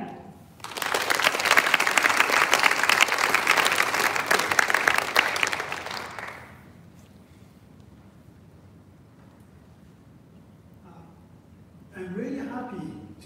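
Audience applause welcoming a speaker to a university stage, a loud, dense burst of clapping lasting about six seconds that then cuts to near quiet before a voice begins speaking at the end.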